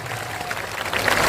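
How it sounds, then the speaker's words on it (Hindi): Crowd applause at a Jan Suraj party launch rally, a broad wash of clapping that swells slightly toward the end. "ताली, जोर से ताली बजाइए।"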